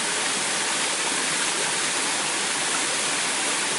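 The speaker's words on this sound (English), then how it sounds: "This is music from a waterfall." A waterfall roars in a steady, dense rush of falling water, loud and unbroken from start to finish, with nothing else heard over it.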